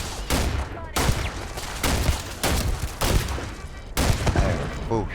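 Heavy gunfire from a long-range weapon in the video game Starfield, aimed at a distant turret. Loud, booming bursts repeat about once a second, each with a sharp attack and a rumbling tail.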